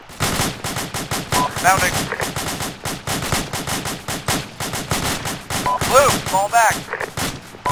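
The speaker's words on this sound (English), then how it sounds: "Red team, keep suppressive fire on the bunker." Bursts of suppressive rifle and machine-gun fire aimed at a bunker during a fireteam exercise, loud and repeated throughout, with shouted commands over the shooting.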